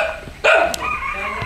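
A dog at a house gives a sharp bark, then a fainter second yelp, fairly close and loud against quiet outdoor background noise.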